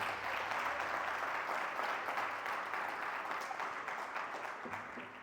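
An offering of applause from a church congregation during a sermon, a steady dense clapping of many hands that carries on for several seconds and slowly fades toward the end.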